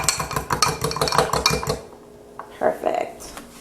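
A utensil works quickly through ingredients in a bowl, giving close rapid clinking and scraping strokes for almost two seconds before a pause and a few softer knocks.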